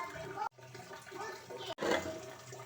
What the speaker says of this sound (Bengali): এবার আমি এগুলো ভালো করে ধুয়ে নিব।